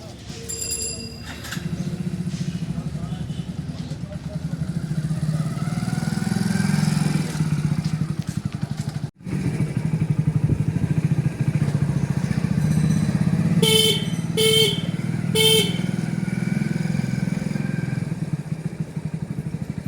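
A motorcycle ridden at a bike training school idles and runs steadily close by, with a short cut-out midway, brief high beeps late on, and people talking over the engine.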